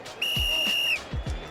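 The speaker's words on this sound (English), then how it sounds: "The referee's about to blow his whistle." A referee's whistle in a football video game blows one sustained shrill blast of under a second, with a few dull thumps around it and faint crowd noise.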